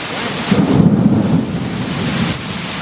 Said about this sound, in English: Anyway, it starts to rain.